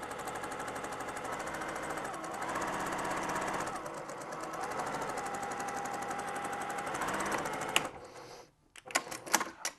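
A sewing machine back stitches a fabric grocery bag in a steady, close mechanical whir that runs continuously, then stops and gives way to a few sharp clicks and handling noises at the end.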